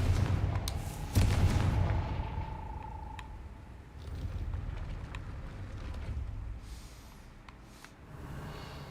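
A Confringo blasting spell explodes in Hogwarts Legacy, a sudden low boom with a brief ringing tone trailing after, followed by softer rumbles and game ambience at moderate level, with no talking.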